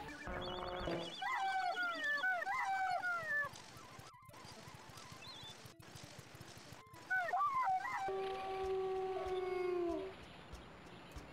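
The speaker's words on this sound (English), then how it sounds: "I'll just howl till I find him." Wolf howls from the 1994 DOS game Wolf: several rising and falling synthesized howls in bursts, clear and fairly close, with brief gaps and a long sustained final howl.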